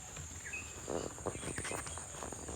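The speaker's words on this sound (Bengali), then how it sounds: "নীরব, ঝিঝি পোকা শব্দ পাওয়া যাচ্ছে" Crickets chirp steadily on a quiet village road at night, a faint continuous high trill with soft background noise and a few light rustles or footsteps.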